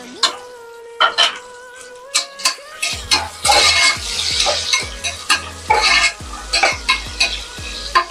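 Sliced onions and whole spices such as cumin, cloves and cardamom fry in a pot for bagara rice, with a spoon scraping and clanking in rhythmic strokes over a rising, steady sizzle, close and loud.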